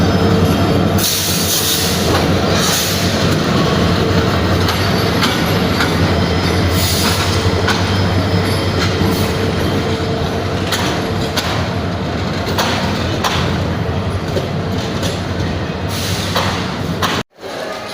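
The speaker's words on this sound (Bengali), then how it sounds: "আমাদের সামনে দিয়ে অন্য একটি ট্রেন আসলে" Another train passes close on a railway line in Bangladesh, a loud, continuous roar of wheels and rumbling cars with rhythmic clatter and faint squeals that cuts off abruptly near the end.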